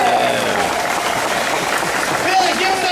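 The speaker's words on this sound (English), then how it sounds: "Give him a round of applause." Crowd applause at a political campaign kickoff rally, steady and fairly loud, with voices and a speaker talking over the clapping.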